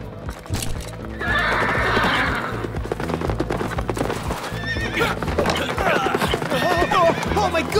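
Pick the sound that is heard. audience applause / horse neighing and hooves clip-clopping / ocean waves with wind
horse neighing and hooves clip-clopping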